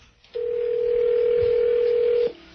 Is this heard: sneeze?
no